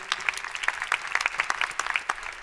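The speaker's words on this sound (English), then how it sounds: "A round of applause, please." An audience applauds at a conference event on a circular future, with a steady patter of claps from a modest crowd, fairly faint and close.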